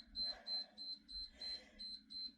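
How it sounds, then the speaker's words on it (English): A workout timer alarm beeps in a repeating pattern of short electronic bursts, about seven evenly spaced pulses, fairly quiet and heard alone. "the timer's going crazy here."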